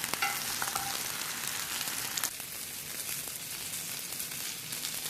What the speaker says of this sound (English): The batter on that fish is cooking up very, very quickly